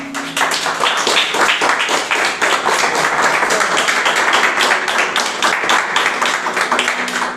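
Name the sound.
church congregation applauding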